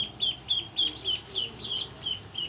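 Small ducks calling in a quick, regular series of high, short peeps, about nine in a row, fairly close with no voices.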